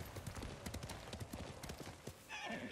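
Horse galloping in Ghost of Tsushima, quick hoofbeats with a jump and landing, and a brief neigh toward the end, over game ambience.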